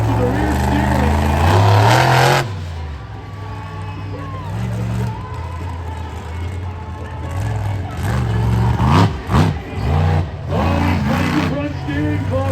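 A monster truck engine roars and revs in bursts as it is driven on rear steering at an evening Monster X Tour show in Granite City, Illinois, loud and close, with crowd noise and an announcer talking over it.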